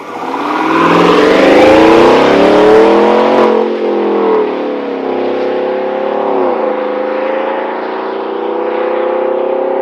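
Chevrolet Tahoe 5.3L V8 fitted with a Corsa cat-back dual exhaust revs loudly up and down, a deep throaty roar that peaks early and then settles into a steady, slightly fluctuating rumble with no talking.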